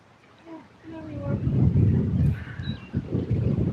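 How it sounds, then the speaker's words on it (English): Wind gusting at Herb Parsons Lake, a low rumbling buffet that swells and stays strong, with voices talking over it. "A little windy, just a lot windy."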